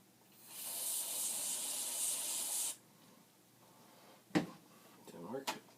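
Spray can spraying near circuit board prototypes for a Commodore PET composite video connection, a loud steady hiss lasting about two seconds and then cutting off, followed by brief handling noises.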